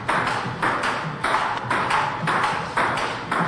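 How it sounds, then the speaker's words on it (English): Table tennis rally between a coach and his student, with a steady back-and-forth of sharp ball pings and paddle taps at a quick, even rhythm, close and fairly loud. "A rally going back and forth for 2 hours?"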